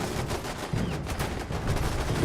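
Cryo turrets in Fallout 76 firing steadily, a dense stream of rapid mechanical shots with thumping impacts, loud and continuous across the whole span.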